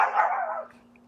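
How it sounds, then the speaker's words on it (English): A single short dog bark from Bella, a pet dog barking at a chicken in a backyard garden, with a brief tail that fades out, heard alone at moderate distance. "Bella really loves barking at that chicken."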